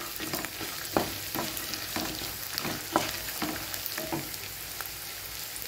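Sautéing for a Tamil sunda vathal kuzhambu, stirred steadily in a pan: a continuous close sizzle with regular scraping strokes of the spoon roughly every second, without any talking.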